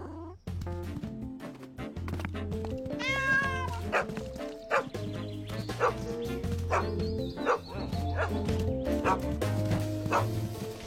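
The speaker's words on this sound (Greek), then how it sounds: "Μπορεί κάποιος να χωρίσει τον σκύλο και τη γάτα." Cartoon dog and cat fighting, with repeated barks, yips and meows clashing over a busy musical score from a Bob the Builder children's episode, loud and close throughout.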